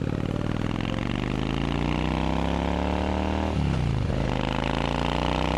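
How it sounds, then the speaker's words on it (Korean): Exhaust of a 1998 Honda Steed 600 cruiser motorcycle while riding, a loud, steady low engine drone with rising pitch as it pulls, a brief dip around a gear change, then building again. "배기음과 엔진의 고동감이 정말 좋습니다"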